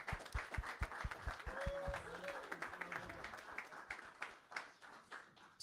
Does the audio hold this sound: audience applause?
yes